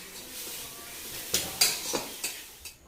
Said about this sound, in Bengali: গাজরটা বেশ কিছুক্ষণ নেড়ে নিয়েছি।